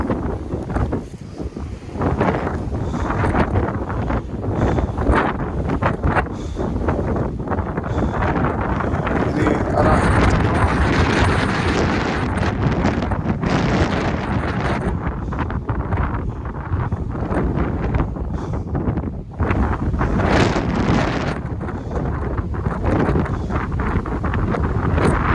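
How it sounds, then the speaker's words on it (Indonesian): Strong gusts with fog blast across a mountain trail on Mount Sumbing via the Gajah Mungkur route, a loud, constant roaring rush buffeting the microphone for the whole stretch, with no talking. "Anginnya"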